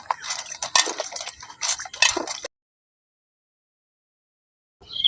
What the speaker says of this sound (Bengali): বেগুনটা কাটার আগে ভালো করে ধুয়ে নিচ্ছি